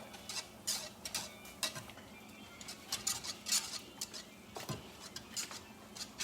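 Grits being stirred in a pot just taken off the heat, giving a steady run of soft scraping and wet patter with a few light clinks of the utensil, close and fairly quiet with no talking.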